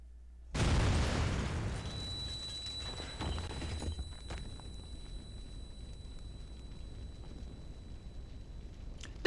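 An oil drum explodes with a sudden loud boom in the Reverse 1999 video game, followed by a long rumbling fade with scattered crackles and a few faint after-pops, then near silence.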